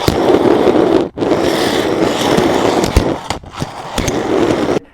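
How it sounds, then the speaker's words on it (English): A fingerboard rolling on regular plastic wheels, making a loud, rough, rattling roll with a brief gap early on and several sharp clacks as it runs. "Last but not least, we have just some regular plastic wheels."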